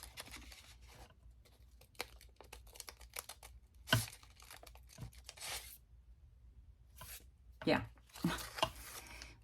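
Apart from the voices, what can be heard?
cutting craft material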